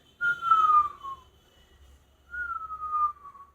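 A person imitates whistling respiration on inspiration, producing two faint, thin descending whistles separated by a pause, heard alone.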